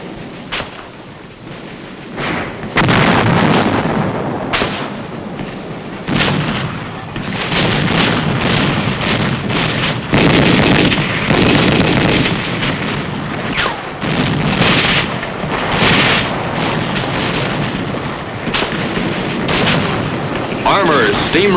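Artillery shells and mortar fire boom through a wartime battle in palm-tree terrain, dense repeated blasts and rumbling in a loud, continuous barrage under a narrating voice.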